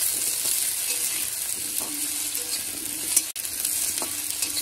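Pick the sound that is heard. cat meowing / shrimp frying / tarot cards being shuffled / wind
shrimp frying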